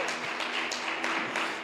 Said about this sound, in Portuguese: Você pode aplaudir a Jesus?